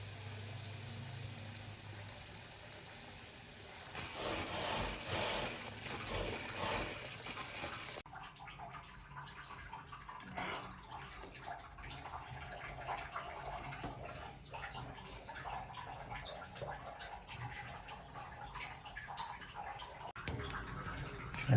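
Water running and draining from an old tub and shower valve after the supply is cut off, a steady wash of noise that swells for a few seconds, then settles into a quieter continuous trickle.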